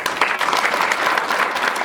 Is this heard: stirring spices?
no